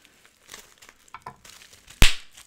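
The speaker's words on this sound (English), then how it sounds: "I can't see because it's clear tape on clear bubble wrap." Clear tape being peeled and unwrapped from clear bubble wrap: soft crinkles and small tearing sounds, then one sharp loud rip near the end, close up.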